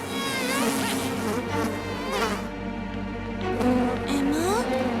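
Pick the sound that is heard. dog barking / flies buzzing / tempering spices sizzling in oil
flies buzzing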